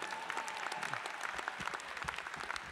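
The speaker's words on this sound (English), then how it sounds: "Give yourselves a round of applause." Graduates at a business school commencement ceremony clap together in a dense, sustained round of applause that fills the hall, with no talk over it.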